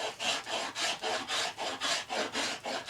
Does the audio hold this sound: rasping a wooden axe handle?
yes